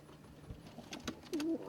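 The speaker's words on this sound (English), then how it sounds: "This is a little group of ice pigeons." Ice pigeons in a loft give soft, quiet cooing, a few short burbling calls near the end over faint room noise and light shuffling.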